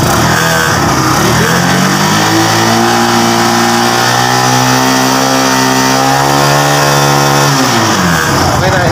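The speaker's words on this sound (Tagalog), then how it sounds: "Birit mo, birit." A motorcycle engine with a loose stator socket revs loud and close, its pitch climbing and holding high for several seconds before dropping back, with no one speaking over it.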